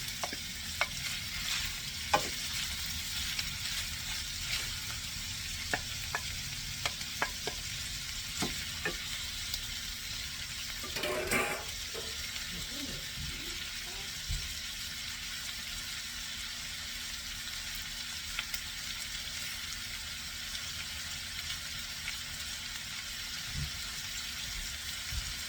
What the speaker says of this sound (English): Put your onions and mushrooms in.